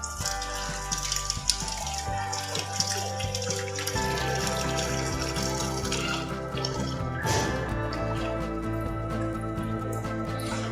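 Rooh Afza sharbat water is poured and strained through a fine sieve into a pot, a steady trickling, splashing stream that runs throughout over quiet background music.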